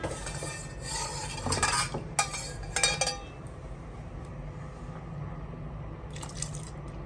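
A spoon clinks and stirs through nonbu kanji, a rice porridge with coconut milk just added, simmering on a low stove. Several close scraping and clinking strokes come in a burst and then give way to quiet bubbling, with a few more clinks near the end.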